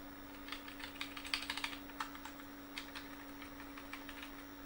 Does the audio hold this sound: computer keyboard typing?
yes